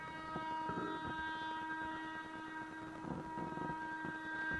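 A train passes a level crossing near Futiyari Dam in Purulia, West Bengal, on the Asansol line: a sustained, steady horn tone over continuous rolling rail rumble, loud and unbroken throughout.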